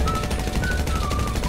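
Rapid bursts of gunfire in GTA V rattle continuously over a low rumble, with a faint tonal whine drifting in the background.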